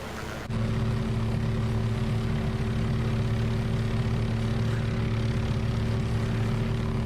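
A Chinook helicopter in Microsoft Flight Simulator 2024 starts up abruptly and then holds a loud, steady rotor and turbine drone with a constant low hum, near and without talk.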